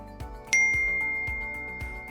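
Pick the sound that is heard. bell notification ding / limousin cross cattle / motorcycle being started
bell notification ding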